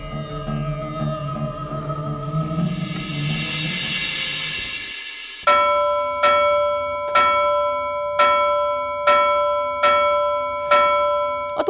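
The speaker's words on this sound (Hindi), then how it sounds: "बंद कर घंटी बजाना।" A bell rings loud and close: first a sustained ringing tone, then a run of about seven sharp strikes at a steady, even rhythm, each leaving a ringing decay.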